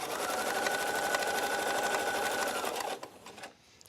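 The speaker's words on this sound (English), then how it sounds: "just tuck this under as you're sewing" A sewing machine top-stitches a trench coat, running in a steady fast buzzing whir close by for about three seconds before slowing and stopping.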